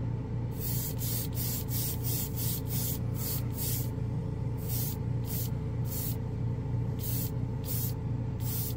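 Craft-store spray paint hisses from the can onto a gray-primered spoon in a run of short, close bursts of varying length over a steady low background hum.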